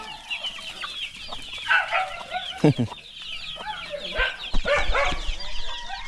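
Native chickens on a small farm cluck and squawk in a lively, overlapping chorus, with a few sharper nearby calls rising above the steady flock chatter.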